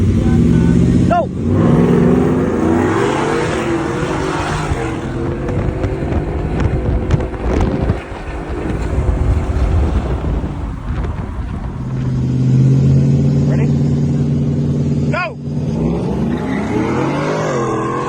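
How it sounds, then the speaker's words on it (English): A Ford F-150 pickup with bolt-on modifications accelerates hard in a street race, its engine revving loud and close through rising gear pulls with brief shift dips, while people speak over it. "we have been having fun on the street with our friend Weddle's F-150"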